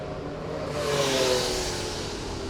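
Vintage race cars, a Porsche and two BMWs, run close together on a racetrack, engines droning steadily at mid distance with a brief rising swell as they pass.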